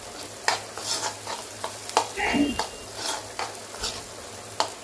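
Washed goat brain frying in a pan, a steady sizzle under intermittent scraping strokes of a spatula stirring it, close and moderately loud, no talking.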